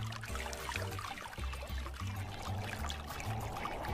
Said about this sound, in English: Water pumped from the water tank pours over the honeycomb cooling pad.